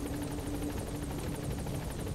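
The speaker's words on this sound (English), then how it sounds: "fuck off, helicopter, you're causing more trouble than you're worth" A helicopter in the video game Metal Gear Solid V thrums overhead, its rotor chop a steady rapid pulsing flutter held at moderate distance throughout, with no talk over it.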